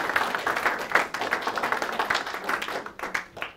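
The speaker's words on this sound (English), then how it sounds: "Round of applause." Applause from a small seminar audience, a brief patter of scattered hand claps at close range, fairly quiet and fading toward the end, with no talking.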